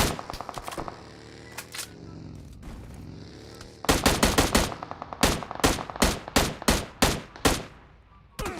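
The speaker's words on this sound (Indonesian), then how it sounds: "Gue ditembak Pak Ci" Bursts of automatic gunfire from the PUBG Mobile video game ring out loud and close, first scattered shots and then rapid repeated volleys.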